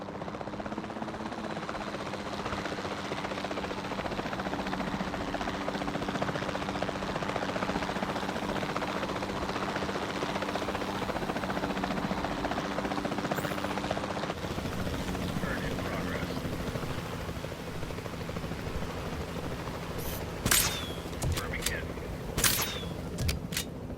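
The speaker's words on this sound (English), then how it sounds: "the sensible thing is to take a capture team helicopter. You can trank it from the air." A capture team helicopter in Jurassic World Evolution 2 drones steadily with a low rotor hum throughout, joined near the end by a few sharp bursts that could be tranquilizer shots; faint voices murmur beneath the engine.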